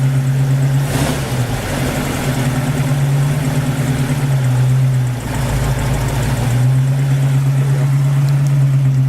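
A 1968 Ford Mustang 289 V8 with a two-barrel carburetor runs at a steady fast idle, a loud, continuous low rumble with a constant hum that dips briefly a couple of times and holds alone without talk.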